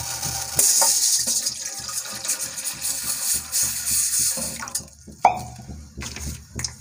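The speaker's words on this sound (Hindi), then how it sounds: "पानी डाल देंगे," Water is poured into a bowl to start sugar syrup, giving a close, moderately loud splashing pour with drips and a few sharp knocks against the vessel, and no talk.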